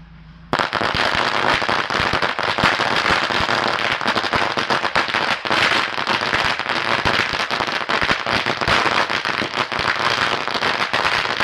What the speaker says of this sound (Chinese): 现在开始放炮，新年开业大吉，放炮。